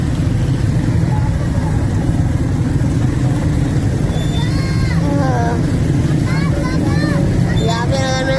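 A motorbike engine drones steadily and loudly through rush-hour street traffic, with wind buffeting and a voice talking over it, and brief higher chirping tones toward the end.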